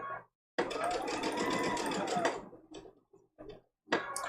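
Sewing machine stitching a quilt block seam, a close, fast whirring run of stitches lasting about two seconds, then a few short stitching bursts with pauses, such as a back stitch.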